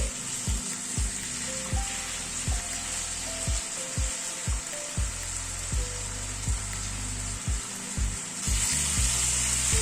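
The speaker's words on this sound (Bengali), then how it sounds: "ঝিঙেটাকে আরো মিনিট 2 মতো একটু নাড়াচাড়া করে নিলাম।" Ridge gourd frying in a pan, a continuous bright sizzle broken by a series of rhythmic stirring scrapes and knocks, close and loud, the hiss swelling near the end.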